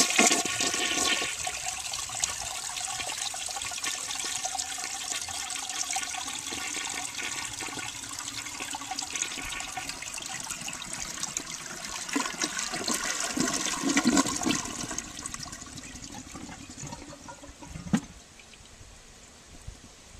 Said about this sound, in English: Now here's a flush looking at the left-hand side of the bowl.